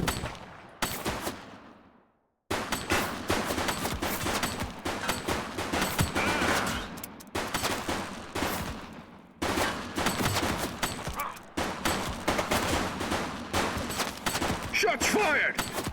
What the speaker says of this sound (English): Shots fired! Suspect KIA.